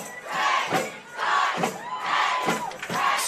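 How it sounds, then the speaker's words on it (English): A raucous high school football crowd roars after a touchdown, loud sustained cheering and shouting in swelling waves, no clear talk. "this raucous crowd is back into it"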